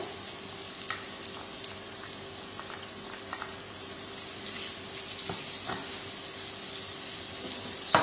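Chopped onion hitting hot oil with whole cloves and green cardamom produces a steady, dense sizzle for several seconds, broken by occasional faint stirring ticks, with no voices.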